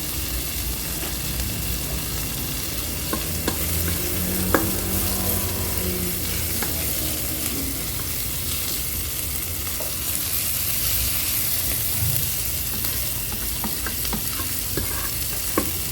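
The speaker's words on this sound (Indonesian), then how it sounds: "sawinya kita masukin, kita aduk-aduk terus ya" Mustard greens are stirred and tossed while sizzling in a Kadonio multipurpose pot, with a steady close frying hiss, occasional scraping and clinks from the stirring, and no voices.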